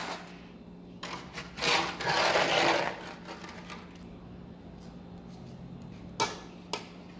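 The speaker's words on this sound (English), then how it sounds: "Removing the excess from the top of the slump." A steel tool scrapes excess fresh concrete off the top of a slump cone in a civil engineering lab, a few rough grating strokes, the loudest one drawn out for about a second, followed by quieter short scrapes and taps.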